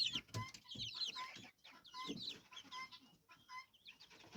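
Several chickens cluck and chatter close by in short, busy bursts, with brief pauses between calls.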